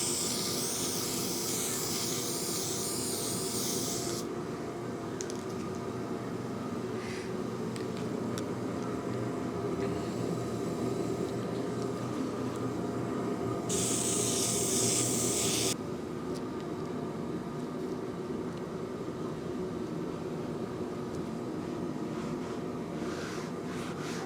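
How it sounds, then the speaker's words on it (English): Aerosol Permatex headliner contact cement sprayed onto the back of a custom door panel for a Trans Am, two bursts of close, steady hiss, the first about four seconds long and the second about two, with a low background hum throughout. "You gotta spray it on both surfaces."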